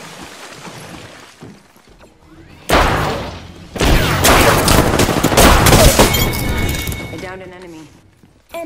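Gunfire in the Apex Legends video game, with loud dense bursts of shots and booms across the middle and later part of the clip and game voice lines during the quieter stretches.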